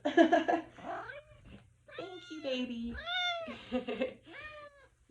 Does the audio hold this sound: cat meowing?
yes